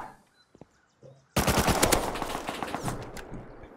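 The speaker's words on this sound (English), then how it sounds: "There's the AK, yeah." Rapid automatic AK rifle gunfire in the video game Rust bursts in suddenly after a few quiet clicks, loud and sustained as a dense string of shots to the end.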